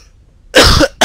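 A single loud, close cough from a French-speaking man, followed by the start of a second short cough after a brief pause, with near silence beforehand.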